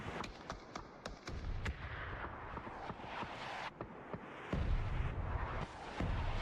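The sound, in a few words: mortar fire in a video game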